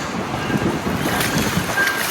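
Strong wind buffets a fishing boat at sea, a loud, rough gusting roar across the microphone with waves washing beneath.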